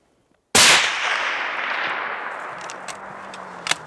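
One loud, sharp rifle shot cracks during a backcountry high-country mule deer hunt, aimed at a buck, then rolls away in a long fading echo across open terrain.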